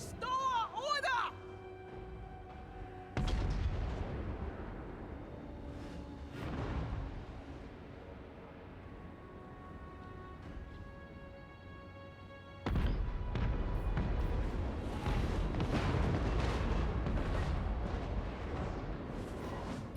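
Cannons firing in the strategy game Total War Warhammer 3, with two deep booming blasts that each swell into a long rumbling roar, mixed with battle noise and bright tonal game sounds.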